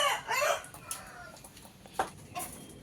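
A fighting rooster gives a few close, throaty clucks and short squawking calls, with quieter gaps of ambient noise between the bursts.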